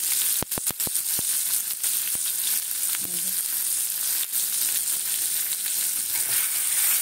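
Cumin seeds sizzle steadily in hot oil for a breakfast dalia, a continuous close frying hiss broken early by a few sharp pops and crackles.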